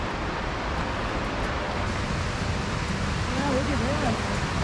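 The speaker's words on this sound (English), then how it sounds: "how loud the water is" Loud, steady rush of Horse Creek Falls near Twin Lakes, Bridgeport, California, a broad continuous roar of falling water, with a voice speaking briefly over it near the end.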